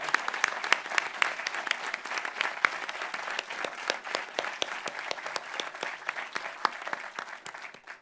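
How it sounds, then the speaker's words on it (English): An audience at a Navy chief petty officer pinning ceremony in the Pentagon breaks into sustained applause, dense and steady clapping from a large crowd that fades slightly near the end. "How about a big round of applause for all our families and support networks out there?"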